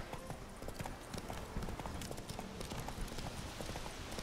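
Roach the horse galloping in The Witcher 3, a steady fast clip-clop of hooves running continuously and loudly, close up, with no talk over it.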